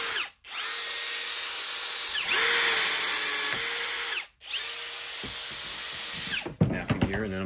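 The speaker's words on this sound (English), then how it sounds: "It's my first time using this battery operated rivet." Battery-operated rivet gun setting a rivet while installing struts on a Pelican Vault 730 case, with three long, loud whirring motor runs separated by brief pauses, ending in a few sharp clicks and clatter.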